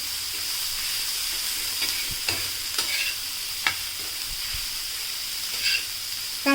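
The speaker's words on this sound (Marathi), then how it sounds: "आता आपण कांदा सुद्धा मस्तपैकी बटरमध्ये मिक्स करून घेणार आहोत" Steady sizzle of chopped onion frying in butter on a flat griddle, with occasional soft scrapes and taps of a spatula stirring; no talking.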